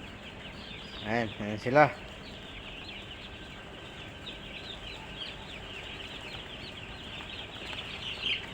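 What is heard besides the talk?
small chicks peeping at a farm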